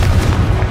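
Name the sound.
Confringo fire-blast spell cast in video game Hogwarts Legacy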